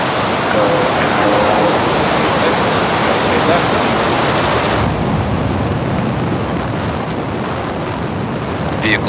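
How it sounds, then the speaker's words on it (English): Falcon 9 rocket lifting off with the NROL-146 spy satellite, a loud continuous broadband roar that stays dense and steady throughout and grows slightly duller midway, with no pauses. "And liftoff of Falcon 9."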